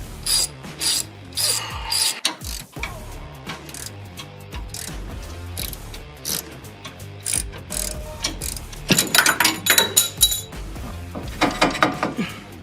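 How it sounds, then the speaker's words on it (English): Ratcheting and metal-on-metal clicking as bottom screws are backed out of the shocks on a Chevy Silverado ZR2, busy bursts of mechanical rasping with brief pauses, close and moderately loud throughout. "Just getting the bottom screws out of the shocks."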